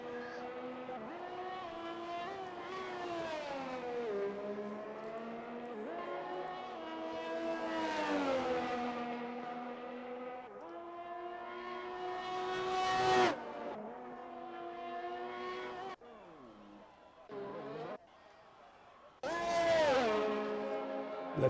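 Race car engine in a racing video game lapping the Japan circuit, a loud, continuous high-revving whine rising and falling through gear shifts, with sharp cuts and dips as the car brakes and downshifts through corners.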